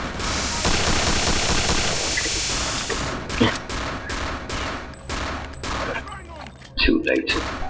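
Gunfire in Return to Castle Wolfenstein: a sustained rattling automatic burst followed by several sharp, separate shots, loud and close, with a voice briefly over the action.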